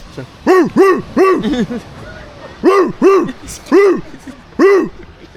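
A dog barks in two bursts of three to four loud, close, harmonic barks with a short pause between them, with people talking faintly in the background.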